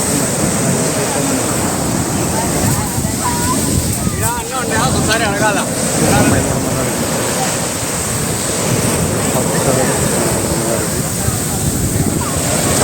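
Ocean surf rolling onto Chavakkad beach in Kerala, a steady loud wash of breaking waves with heavy wind buffeting the microphone, while someone talks over the roar.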